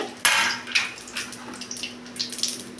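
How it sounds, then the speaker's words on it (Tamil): Mustard seeds popping and crackling in hot oil in a pan, a sharp burst of splutter followed by scattered lighter pops and sizzling, close and fairly quiet. "எண்ணெய் காஞ்சதையும் கடுகு ஊற்ற நம்ம போட்டுக்கலாம் கடுகு நல்லா பொரியுது"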